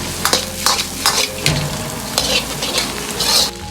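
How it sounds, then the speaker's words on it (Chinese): Chicken pieces with chillies being stir-fried in a hot wok, loud repeated bursts of crackling sizzle as the food is tossed and scraped with a spatula, roughly one stroke every half second, with no talking. "接着下入控干油的鸡肉，快速的翻炒均匀"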